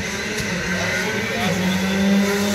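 Skoda Fabia rally car, number 17, running a shakedown special stage at the Rallye d'Antibes, its engine droning and rising in pitch as it accelerates nearer, with a commentator talking over it.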